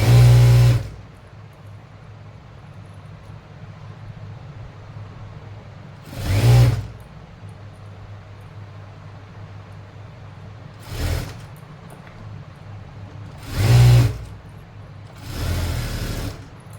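A sewing machine runs a long straight seam on pant fabric in short bursts of whirring stitching, separated by quiet pauses, heard close and loud with no voices.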